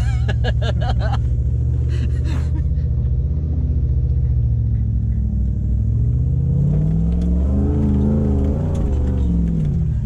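Toyota Hilux Surf automatic with manual shift control labouring up a steep off-road slope, its engine rumbling low and close, then revving harder near the end, with brief voices early on.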